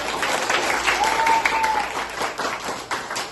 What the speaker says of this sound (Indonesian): Beri tepuk tangan untuk kelompok yang sudah presentasi kelompok 5 ini.